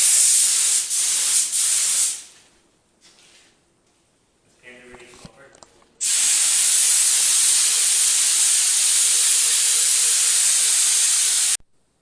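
A spray gun lays white base coat on a car in an open-air home paint job, giving a few short hissing bursts followed by a long, loud, steady hiss, with quieter rustling between.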